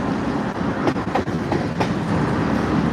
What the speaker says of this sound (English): Yeah, just sitting here watching the train go by.